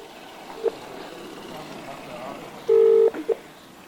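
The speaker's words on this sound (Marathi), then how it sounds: "बुटी मामाला फोन कर" Short electronic dial tones from a phone being dialed, one long beep and several brief ones, over a low background hum, with voices nearby.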